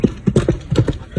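Hooves of a stone horse galloping in a tabletop fantasy campaign scene, a close, loud clip-clop of irregular hoof strikes in quick clusters, with a faint hint of whinny.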